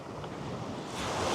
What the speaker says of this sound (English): you're going to hear the waves